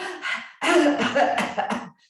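A person coughs several times in quick succession, close by, the harsh bursts followed by throat-clearing sounds.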